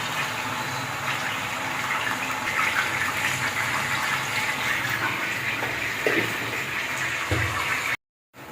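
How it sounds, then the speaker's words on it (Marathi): Eggplant pieces sautéed in hot oil with salt: a steady, close sizzle and hiss that holds for several seconds, with a few faint clinks near the end and no talking. "आता ही सगळी वांगी तेलामध्ये परतून घेते।"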